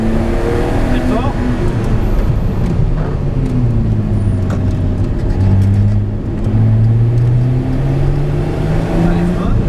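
A rally car on a timed stage climbs through the gears, its engine tone rising and falling in long sweeps as the throttle is fed in progressively, with a co-driver talking over the noise.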